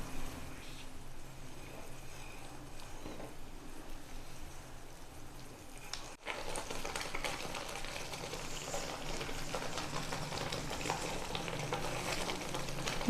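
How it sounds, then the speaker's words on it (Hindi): Desiccated coconut and milk sweet mixture stirred in a pan over a high flame, a steady close sizzle with continuous scraping and stirring throughout and no talk. "इसको हाई फ्लेम में चलाते रहें, जिससे कि ये ड्राई हो जाएगा।"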